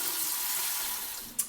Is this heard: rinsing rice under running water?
yes